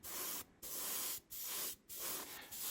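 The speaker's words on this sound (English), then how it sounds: "Using the airbrush for this." Airbrush spraying rust-colored acrylic primer onto a model car's axles and chassis parts, a close steady hiss in four bursts separated by short pauses.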